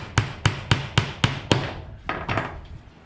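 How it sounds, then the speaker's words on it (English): Nails are hammered into wooden battery box bases with six sharp, evenly spaced blows, then a few softer, scraping taps, close and alone. "for the moment I'm nailing these down"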